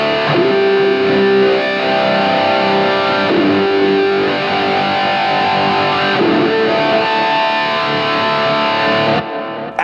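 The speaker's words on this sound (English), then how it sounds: "all you're going to do is slowly raise the wah pedal up" Heavily distorted electric guitar plays sustained chords, the tone sweeping with a wah effect, loud and continuous before cutting off near the end.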